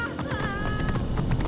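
A horse's hooves clopping on stone stairs in the video game Assassin's Creed Origins, quick close steps with a short whinny partway through, over game background sound.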